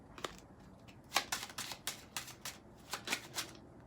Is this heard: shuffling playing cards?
yes